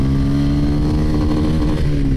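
A TVS Ronin motorcycle pulls hard in second gear on an open road, its engine note rising steadily and loud and close throughout, with no talk.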